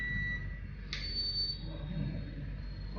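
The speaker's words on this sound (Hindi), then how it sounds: "जब बीप बजे चालू हो गया।" A mobile phone display backlight circuit powers on during a repair class, giving short, thin electronic tones: a steady beep, then a brief rising chirp and a held tone over faint background hum.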